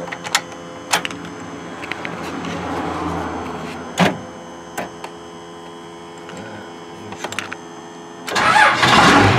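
A 1st Gen Cummins diesel pickup with a swapped 47RH transmission gives a few sharp clicks and knocks over a low hum, then cranks and fires up loudly near the end.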